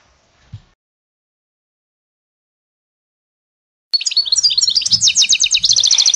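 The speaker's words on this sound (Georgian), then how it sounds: "გესმი, ეს ჩიტბატონას კეთილ ხმოვანი გალობა" A goldfinch sings a bright, rapid, twittering song of varied high notes, close and clear, starting after a few seconds of near silence.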